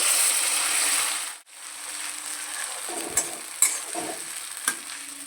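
Ginger and dried red chilli paste dropped into hot oil for vegetarian jackfruit biryani: a loud, hissing sizzle cuts off abruptly, then quieter frying continues with a spoon clattering and scraping in the pan.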